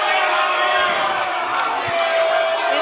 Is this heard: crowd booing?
yes